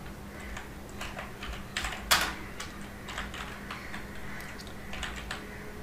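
Computer keyboard typing, a scattered run of soft key clicks with one sharper clack, fairly close and quiet.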